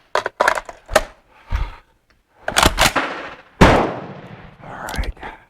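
A Bren MK2 machine gun fires several sharp, loud shots in short clusters with gaps of silence between them, each blast close and echoing briefly.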